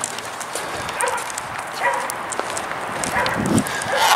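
Dogs bark in scattered, distant yaps along a road in Spokane, Washington, faint beneath outdoor ambient noise.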